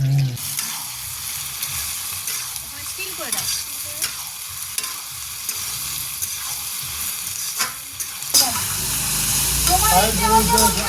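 Vegetables for fried rice fry and are stirred vigorously in a pan at a family picnic, a loud, constant hissing sizzle with scraping strokes, growing stronger near the end as brief voices come in.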